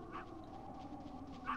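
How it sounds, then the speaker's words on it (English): Dogs in the video game Metal Gear Solid let out two short, faint whimpers about a second apart over a low steady background hum. "They're dogs."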